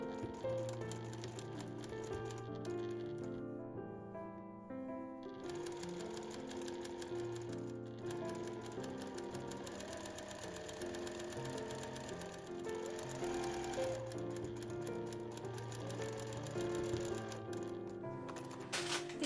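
A sewing machine stitches a straight seam along a fabric edge for a camisole dress. It whirs in a steady rapid mechanical rhythm, close up, with brief pauses and occasional music underneath.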